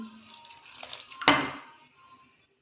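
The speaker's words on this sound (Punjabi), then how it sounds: "ਲੋ ਜੀ ਆਪਾਂ ਪਾਤਾ ਇਹਦੇ ਵਿੱਚ ਪਾਣੀ" A short, sudden splash of water poured into a bowl, fading over about a second, with faint handling noises before it.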